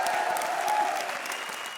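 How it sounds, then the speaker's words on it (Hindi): Studio audience applause on the Comedy Circus comedy show stage, a steady dense burst of clapping with faint crowd noise, holding level and then easing slightly over about two seconds. "तालियां"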